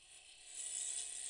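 A hand-cranked ratchet mechanism turning steadily, a dense metallic clicking that is thin and grows louder about halfway through, heard alone with no voices.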